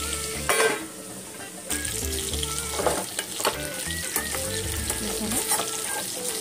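Ingredients being prepared for biryani sizzle steadily in a hot pan of oil, with scraping stirs and clinks throughout; a voice speaks briefly over the close, continuous frying.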